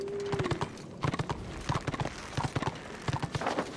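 Big black horse in the Warhammer Online video game, its hooves clip-clopping in a steady galloping rhythm of close, repeated thuds, clear and continuous throughout.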